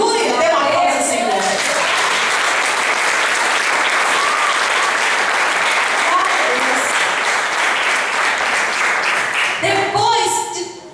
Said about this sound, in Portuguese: Dê uma aplauso, Senhor